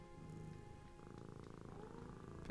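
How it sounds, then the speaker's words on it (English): A cat in the Nancy Drew video game Mystery of the Seven Keys purrs steadily while being petted, a soft, continuous rhythmic rumble heard alone and fairly close. "Alright, Kitty, can I pet you?"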